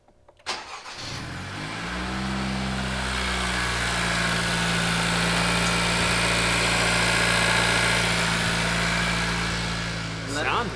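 A 2020 tenth-generation Honda Civic Si with a PRL Cobra cold air intake fires up with a short crank, then settles into a steady, fairly loud idle drone close by.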